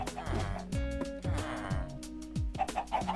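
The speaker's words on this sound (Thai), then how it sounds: "เฮ้ยพี่ไก่พี่ไก่อยู่ชั้นบนด้วย" Chickens cluck in the Minecraft video game, several short repeated clucks and squawks close by, one after another across the moment, with no speech.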